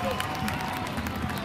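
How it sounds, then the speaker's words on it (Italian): A crowd at an official presentation of historical characters claps steadily in dense, continuous applause, with cheering and voices mixed in throughout. "Ancora un applauso!"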